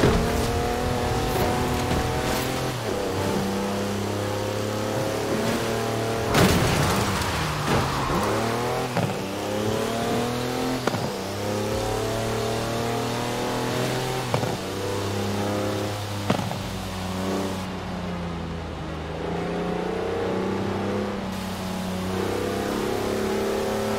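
A four-wheel-drive electric SUV on knobbly tyres with air suspension drives off-road in Forza Horizon, its engine note rising and falling through repeated accelerations and shifts, with occasional tyre scrabble and thumps, loud and continuous without talk.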